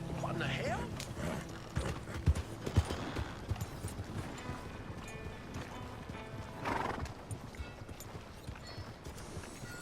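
Horse in Red Dead Redemption 2 galloping with rapid clip-clop hoofbeats and a whinny near the start, loud and close under scattered game sounds and some speech.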